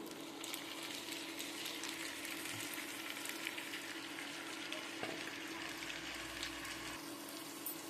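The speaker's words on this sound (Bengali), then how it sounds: "চিকেনটা দিয়ে হাই ফ্লেমে মিনিট পাঁচ সাতেক মতো নাড়াচাড়া করব" Marinated chicken sizzles in a pan with golden-brown onions over high flame, giving a steady, fairly quiet hiss with occasional crackles and stirring scrapes close by.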